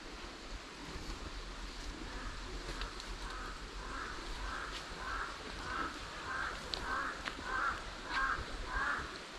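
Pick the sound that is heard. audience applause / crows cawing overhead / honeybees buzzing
crows cawing overhead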